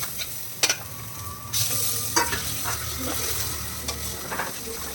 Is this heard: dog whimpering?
no